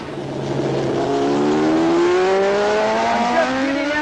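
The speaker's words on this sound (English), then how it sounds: "Cooley and Spencer through turn 2 and accelerating to 150 miles per hour." A racing motorcycle at Laguna Seca in 1979, recorded from an onboard camera, accelerates hard with its engine note climbing steadily in pitch; the loud, continuous engine whine rises through the gears and stays close throughout.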